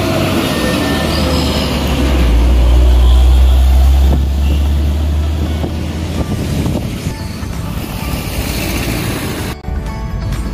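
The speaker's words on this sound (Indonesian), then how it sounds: "Ini banyak truk-truk besar," Heavy rumble of large cross-country trucks on a partly single-lane road under construction, a loud low roar swelling as a vehicle passes close and then easing into continuous traffic noise.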